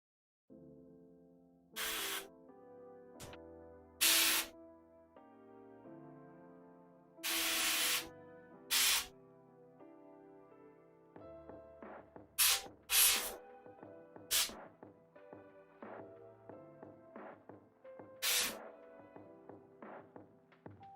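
An airbrush sprays red paint onto a cosplay armor corset in several short, hissing bursts, spaced irregularly over quieter background music.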